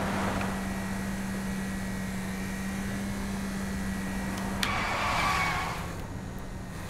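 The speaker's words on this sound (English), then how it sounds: "I only hold down the accelerator as far as it goes, and I only turn by drifting" Car engine revving hard in Saints Row IV, a steady droning roar with tires skidding through a drift, a brief sharp click midway and the engine note easing off toward the end.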